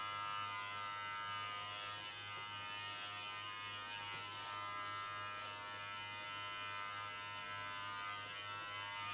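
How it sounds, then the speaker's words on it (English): An electric hair clipper trims hair on a head with a steady, close, continuous buzz that stays even throughout, with no talking. "Leaning on the back of my clipper."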